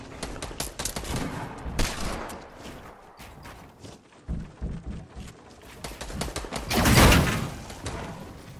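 Rapid gunfire crackles through a Fortnite match in scattered close shots and bursts, building to a dense, loud volley near the end before tapering off.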